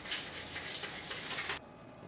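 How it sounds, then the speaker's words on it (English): A motorcycle fork tube lower from a GS550 cafe racer is sanded by hand with 600 grit sandpaper, giving rapid rhythmic back-and-forth rasping strokes close by that stop abruptly near the end. "So I've got one of the fork tube lowers sanded, just the initial sanding with 600 grit."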